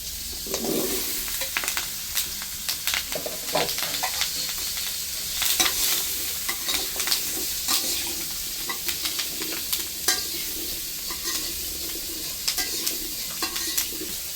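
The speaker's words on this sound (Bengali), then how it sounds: "মাছের মাথাগুলো ভাজা হয়ে গেছে, এখন আমি সব দিয়ে দিই। এখন আমি আলুগুলি দিয়ে দেব।" Potatoes are tipped into a pan of frying fish heads and stirred, giving a steady close sizzle broken by repeated scraping and clattering strokes of the spoon, with faint bird cooing in the background.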